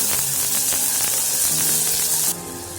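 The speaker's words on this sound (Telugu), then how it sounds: "దీన్ని కొంచెం ఫ్రై చేసుకున్నాం నార్మల్గా" Mutton sizzling in a pan as it fries for a tomato and cucumber curry, a steady broadband hiss that runs continuously and drops somewhat quieter near the end.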